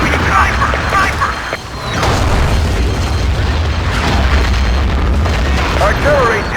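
Artillery shells exploding in the video game Battlefield 2, rolling booms that rumble on continuously for several seconds, loud and dense, with radio voice callouts mixed over the blasts.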